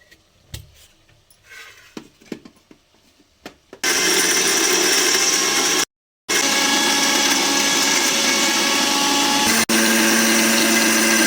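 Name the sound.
grinding gravy ingredients into a paste in a grinder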